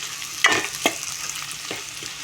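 Chili powder and onion mixture for menthaku aloo curry is stirred in a pan, giving a quiet sizzle with a few scraping spoon strokes over a faint frying hiss, close and alone.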